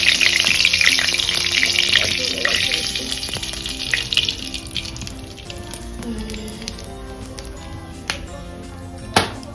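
Hilsa fish and nigella seeds frying in very hot oil, a loud, dense sizzle that crackles strongly at first and gradually settles, with occasional utensil knocks near the end and no speech.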